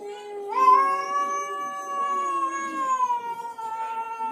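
A pet cat gives a long, loud, drawn-out crying meow close by, wavering in pitch, with a shorter cry near the end and no talking.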